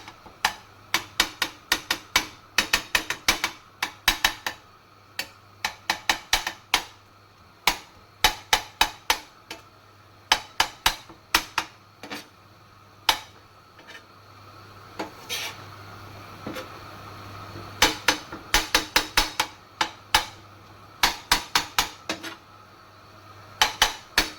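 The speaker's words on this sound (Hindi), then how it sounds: "चम्मच की मदद से इसको ऐसे ऐसे कर लेंगे" A metal spoon clatters repeatedly against a hot tawa while mashing onion and tomato into qeema, sharp scraping taps in quick irregular bursts with short pauses, close and loud.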